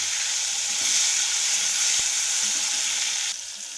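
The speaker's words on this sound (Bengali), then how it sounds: "মশলাগুলো সব একটু ভাজা ভাজা হয়ে গেছে, এবার আমি এর মধ্যে দিয়ে দেবো টমেটো কুচি।" Chopped tomato hits spices already frying in a pan for a kabuli chickpea and potato curry, giving a close, steady sizzle that runs throughout and eases slightly near the end, with no voices.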